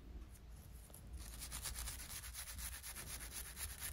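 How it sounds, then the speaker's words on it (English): A fine wire brush scrapes old gasket off a metal surface of a Honda ST1100 Pan European engine, giving a steady, close, gritty rasping that continues without pause. "clean up the surfaces with my fine wire brush"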